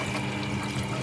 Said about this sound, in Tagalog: yung tubig, dito sa hose dadaan